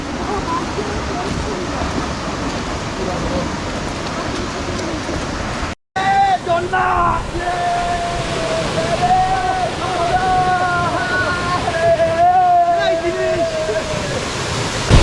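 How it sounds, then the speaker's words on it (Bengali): The Sohosrodhara waterfall at Sitakunda Eco Park roars in a loud, constant rush of water, briefly cut out, while voices talk over the steady torrent. "ঝর্ণায় প্রচুর পানি মনে হচ্ছে"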